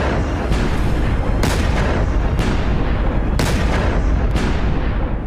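Several loud, sharp explosive bangs from gas balloons burst out at irregular intervals over a constant roaring rumble.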